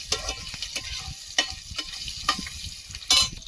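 Metal scraping and frying in a kadai as potatoes and Malabar spinach stalks are stirred, with crab to follow, giving close, steady sizzle broken by sharp, irregular scrapes of the spoon.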